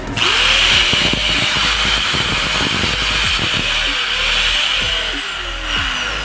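Electric 760-watt Tolsen angle grinder whirring steadily at high speed, a loud continuous whine with a faint rattle underneath.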